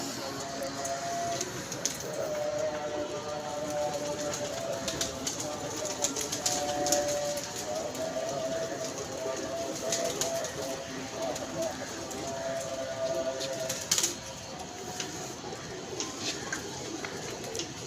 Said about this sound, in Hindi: आंधे उत्ते किसी का बच्चा बैठा है कबूतर, अली भाई फड़न की कोशिश कर रहे हैं।